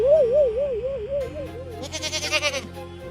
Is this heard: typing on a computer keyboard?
no